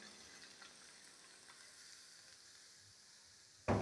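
Tadka tempering is poured over a dish in a bowl, with a faint, quiet sizzle that breaks into a sudden loud hiss in the final moments.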